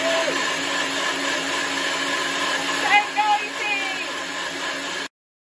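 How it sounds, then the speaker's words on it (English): A kitchen blender whirs steadily while blending a fruit smoothie, a loud continuous motor roar close by that runs alone for about five seconds before cutting off abruptly. "And then I've got to put it in the blender. It's going to be loud."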